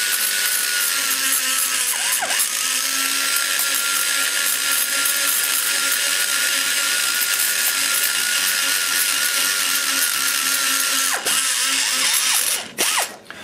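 A high-speed rotary grinder whines continuously while rough-grinding a ProMaxx 200 cylinder head combustion chamber, close and loud, with slight pitch dips as the bit loads up and a brief stop near the end.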